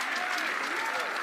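A crowd at a beach volleyball match in the Select Medical Orange County Cup claps and cheers in a dense, continuous roar, with commentary voices mixed in.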